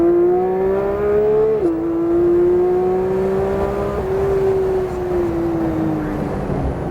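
A Porsche engine on a racetrack, heard from inside the car as a loud, sustained droning note that rises steadily under acceleration, dips briefly at a gear change, climbs again, and then eases off toward the end.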